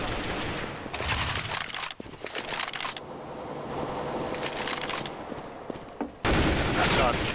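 Gunfire in the shooter game CS:GO, rapid bursts of clattering shots in close, dense volleys that cut in and out, with voices talking between them.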